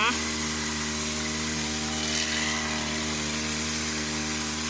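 A motorized sprayer spraying fermented pest-control liquid widely over crops on a farm, with a steady, loud engine drone that runs close and unbroken throughout.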